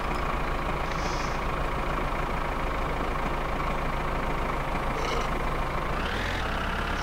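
A tractor engine runs in the video game My Summer Car, a steady close-up drone that holds level for the whole stretch with no talking over it.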